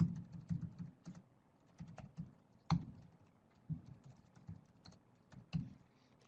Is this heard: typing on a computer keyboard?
yes